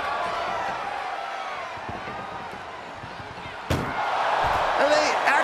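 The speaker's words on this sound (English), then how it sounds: "Trying to at least slam one door shut." A single loud metallic slam of an ambulance door in WWE 2K24 during an ambulance match, cutting sharply through crowd noise while commentators talk over the arena din.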